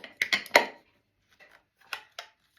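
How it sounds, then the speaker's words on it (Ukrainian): A detachable handle clamps onto a new cooking pot or frying pan with a few sharp metallic clicks and clacks, close and brief, followed by fainter taps. "Ось така ручка до них, яка зажимається."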